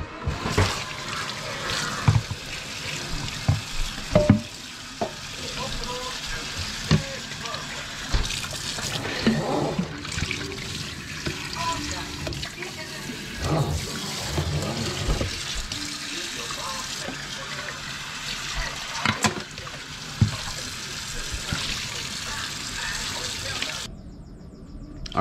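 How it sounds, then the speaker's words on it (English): Tap water runs steadily while an IK Foam Pro 2 sprayer is rinsed out, a continuous splashing flow with occasional knocks and handling clatter, moderately close, and some talking in the background. "I'm gonna go ahead and rinse this out"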